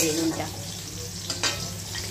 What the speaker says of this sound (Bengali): বেগুনটা আমার ভাজা হয়ে গেছে, দেখো হালকা লাল করে ভেজে নিয়েছি।